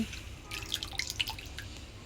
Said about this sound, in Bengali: পরিষ্কার করছি ফুলকপি ধুইতেছি